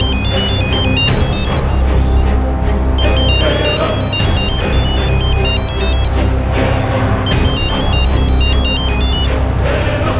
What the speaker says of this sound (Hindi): फोन उठा यार, फोन उठा।